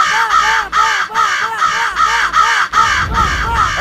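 A crow caws repeatedly in a steady rhythm, loud and close, about seven harsh calls in a row.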